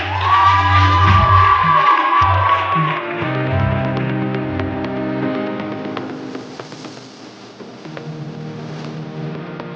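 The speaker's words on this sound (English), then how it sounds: "Another round of applause, ladies and gentlemen." An audience at a youth debate grand finale cheers and whoops, loud at first with shrill, tonal shouts, then easing into a lower crowd noise that fades gradually.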